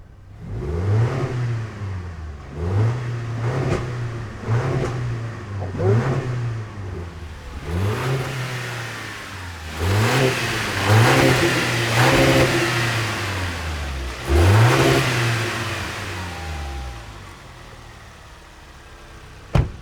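A 2024 Toyota Tacoma fitted with a K&N cold air intake is revved again and again, about nine rising and falling engine surges in a row, loud and close, with no talk.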